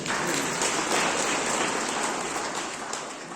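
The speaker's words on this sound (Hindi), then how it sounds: "एक सभी अपने सभी लोग ताली बजाएं।" Wedding guests at an Adivasi twin brothers' double wedding clap together in a dense, steady wash of applause that fills the whole moment, loud and close, with no voices over it.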